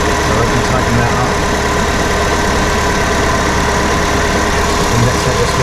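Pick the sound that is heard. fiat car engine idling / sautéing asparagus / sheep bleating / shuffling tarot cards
fiat car engine idling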